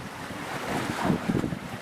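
Ocean waves and wind at sea off Cape Hatteras during a storm, a steady roaring wash of surf with wind buffeting the microphone, loud and continuous without talk.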